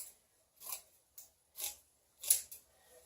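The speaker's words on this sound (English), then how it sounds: "So I'm going to take my scissors, give it a cut." Scissors snip through garden mesh in four or five quiet, crisp cuts spaced about half a second apart, close up with no talk.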